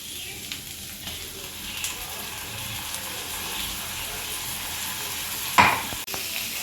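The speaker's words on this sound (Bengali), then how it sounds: "মশলা দিয়ে একটু জল এখানে দিয়ে দিলাম, না তো মশলাটা পুড়ে যাবে।" Spices for a Bengali jackfruit curry, including coriander, cumin, ginger, pepper, cloves, cardamom and cinnamon, sizzle in a pan as water is added, a steady frying hiss with a sharper burst and clatter near the end.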